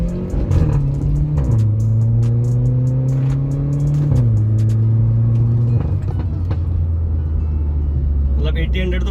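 A German hatchback with 300 Nm of torque, driven on a manual gearbox, revs up hard from inside the cabin, its engine note climbing and then dropping at each gear change under steady road rumble.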